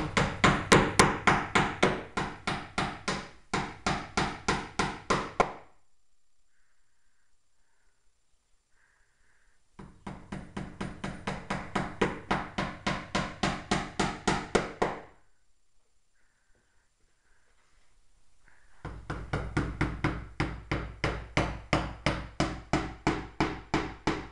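Rapid, steady hammer blows ring out in three long bursts, separated by quiet pauses, close and loud, during work on a pirate ship.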